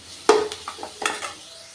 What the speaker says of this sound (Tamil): ஆனியனை மட்டும் லைட்டாக வதக்கினா போதும். இது பாதி அளவுக்கு இது வேகட்டும்.